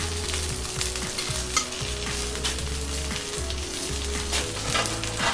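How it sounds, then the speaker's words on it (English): Already-cooked black pudding crisps on a cast iron BBQ with a steady close sizzle, broken by intermittent scraping and stirring of a utensil against the iron, no talking. "the black pudding is already cooked, so all we're just looking to do is warm it through and put a bit of a crisp on the outside"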